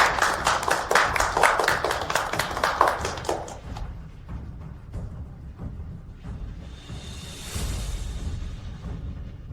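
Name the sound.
audience applause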